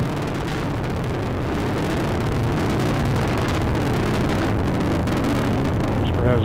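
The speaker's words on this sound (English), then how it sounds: "Booster has now throttled back up." An Atlas V rocket with an RD-180 booster engine roars during launch, a continuous dense rumbling thunder heard from a distance with steady loudness throughout, and a launch commentator talks faintly over it.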